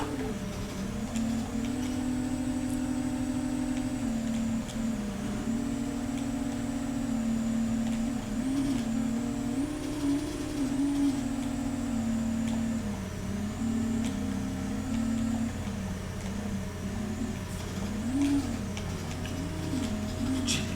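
Toy car engines race in the NES game Micro Machines as a continuous buzzing 8-bit drone whose pitch wavers up and down over about twenty seconds alongside steady chiptune tones.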